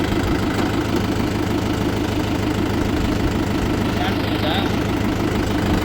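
A tractor engine fitted with a moldboard plough idles loud and close, with a steady rumbling knock throughout. A voice talks over it.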